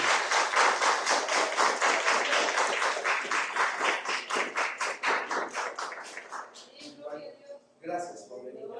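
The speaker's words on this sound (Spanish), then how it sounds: "Hoy quiero que le brindemos un fuerte aplauso" Steady, enthusiastic applause from a crowd at a first aid talk fills the room, with a dense patter of many hands that gradually thins out as a voice speaks over the end.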